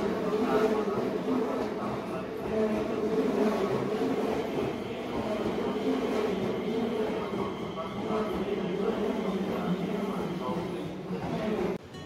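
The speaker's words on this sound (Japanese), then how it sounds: "折り返し特急京王八王子行きの列車がやってきましたので" A Keio Line limited express train pulls into a station in heavy snow, its steady rumble and wheel noise filling the platform while a voice talks over it.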